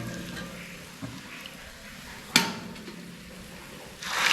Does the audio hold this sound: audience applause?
no